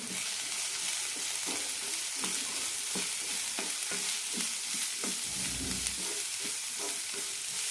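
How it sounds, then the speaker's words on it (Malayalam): Salted vegetables sautéed in a pan for a ragi poha upma, a low, steady sizzle broken by regular scraping and tapping strokes of a spoon, fairly quiet and close, with no voices. "പച്ചക്കറികൾക്ക് ആവശ്യമായി ഉപ്പിടാം നന്നായി വഴറ്റാം"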